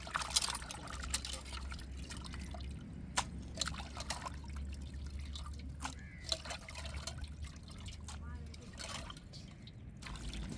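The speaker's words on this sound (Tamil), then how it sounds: "இப்போ வந்து நல்ல தண்ணியில் அலசி எடுத்துக்கிடுவோம்." Fish being rinsed in fresh water during cooking prep: water trickles and drips steadily with intermittent splashes and sharper pours, close by, while a person talks over much of it.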